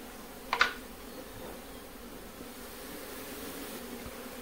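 Indian honey bees (Apis cerana indica) swarm around freshly cut comb in a hive being set up in Mandi, Himachal Pradesh: a soft steady hum with a short, louder buzz near the start.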